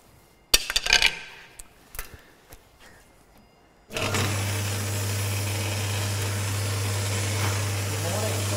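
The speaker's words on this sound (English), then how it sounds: "Go across to the bandsaw." A woodworking bandsaw switches on after a few scattered workshop clicks and knocks, settling into a loud, steady motor hum that runs without a break to the end.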